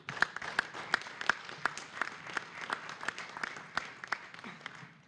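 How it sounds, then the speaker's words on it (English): Scattered, moderate applause from an audience in an orchestra hall during a lecture, with individual claps standing out in an uneven rhythm over about five seconds. "I think we all should give our staff a round of applause"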